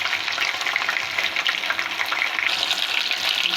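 Marinated chicken pieces frying in hot oil for a roast, giving a dense, steady sizzle that stays loud and close throughout with no pauses.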